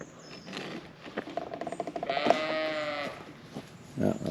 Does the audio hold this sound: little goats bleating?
yes